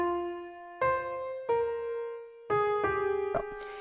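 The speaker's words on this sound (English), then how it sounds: "So one is the closed grand piano," A closed grand piano plays a short repeating pattern of single struck notes, each ringing out and decaying before the next, heard alone and fairly close.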